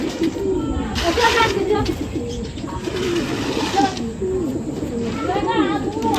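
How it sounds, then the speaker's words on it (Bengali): Madrasi pigeons coo repeatedly in soft, throaty rolling calls, several paired birds close by, with a steady background hum and some chatter mixed in. "এগুলো সব জোড়ার পায়রা দেখানো হচ্ছে"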